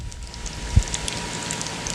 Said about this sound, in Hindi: थोड़ा सा हम इसको और फ्राई करेंगे।